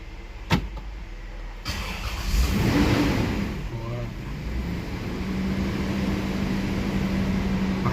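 A 1990 Toyota Crown Royal Saloon 3.0 automatic with a keyed ignition cranks briefly after a click, then catches and settles into a smooth, steady idle heard from inside the car, with faint rustling around it.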